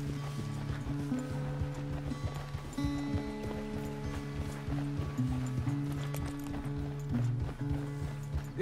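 Rhythmic hoofbeats of a galloping horse in Red Dead Redemption 2 drum steadily and close throughout, mixed with a low background hum.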